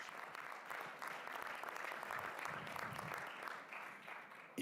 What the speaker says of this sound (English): An applause for all of you.